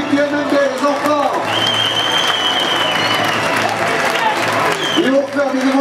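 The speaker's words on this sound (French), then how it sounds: "on applaudit encore très fort" A crowd at the Millau Multi Boxe gala gives the MMB team a loud, sustained round of applause, with an amplified voice heard over the clapping at the start and again near the end.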